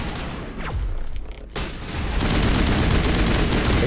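Gunfire in Mass Effect, a dense barrage of rapid shots that briefly drops off, then resumes louder and sustained as continuous automatic fire, close and harsh.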